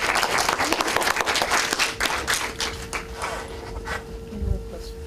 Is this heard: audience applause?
yes